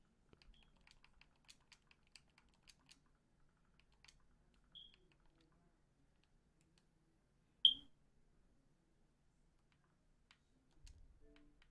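Sparse, faint keystrokes tap on a computer keyboard at an uneven pace in a quiet room, with one louder knock near the middle and a soft rustle toward the end.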